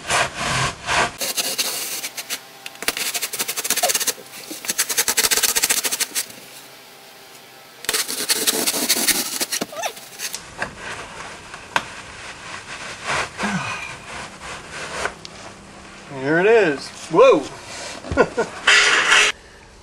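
A sawzall reciprocating saw cutting through metal HVAC ductwork to fit an access panel, giving long loud buzzing, rasping bursts close by, broken by pauses, with clattering and handling noise afterward.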